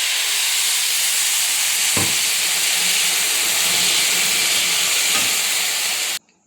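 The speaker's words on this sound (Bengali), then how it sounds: "আমি পরিমাণ মতো জল দিয়ে দেবো।" Water hitting a hot pan of khichuri that has been frying with potatoes, producing a loud, steady hissing steam and sizzle that fills the clip with a couple of faint clunks, then cuts off abruptly.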